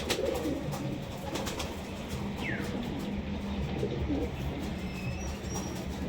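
Pet high-flying pigeons with clipped wings, kept in Krishnanagar, coo softly a few times against a steady outdoor background hum.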